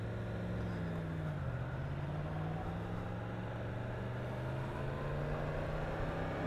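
A motorcycle engine-brakes, heard from inside the rider's helmet as a steady low drone whose pitch slowly sags, with constant wind rush around it.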